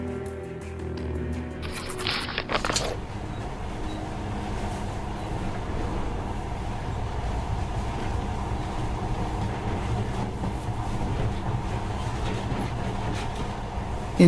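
Monorail train running in Metro Last Light Redux, a steady low rumble and rolling hum that continues throughout after a brief burst of higher clatter near the start.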